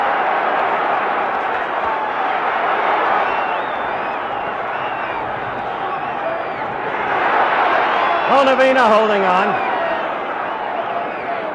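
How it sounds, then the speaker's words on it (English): A boxing arena crowd roars loudly and steadily at the 1970 Muhammad Ali vs Oscar Bonavena heavyweight fight, the din swelling near the end while a commentator talks over it. "Crowd alive for a change."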